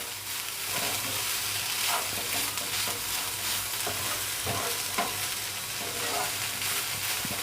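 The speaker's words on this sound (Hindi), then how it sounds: "अब हम उसमें छेना डालेंगे।" Chhena frying in a pan for Odisha tangi kakara, a steady close sizzle running throughout with occasional soft stirring scrapes, no voices.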